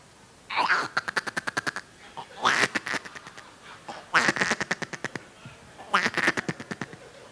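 A duck quacks in four loud, close bursts of rapid, evenly spaced quacks, with short pauses between them and no other sound competing.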